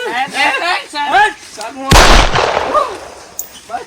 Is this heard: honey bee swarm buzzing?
no